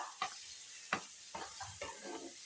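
Egg, garlic and chili fry being stirred in a pan, with soft scraping strokes at irregular intervals over a quiet, steady sizzle, close and fairly faint.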